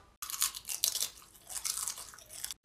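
Crunchy chips are chewed loudly and close up, with a rapid run of crisp crunching bursts, a brief pause, then another burst of crunches.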